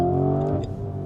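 Lamborghini Urus SE V8 engine giving a deep, baritone rev, a loud, close, sustained growl that swells and then eases slightly, heard alone.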